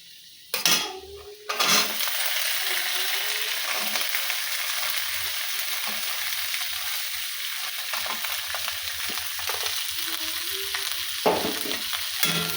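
Chopped vegetables for soup frying in a pan, a steady close sizzle after a couple of sharp utensil clanks, with occasional light stirring scrapes and taps on the pan.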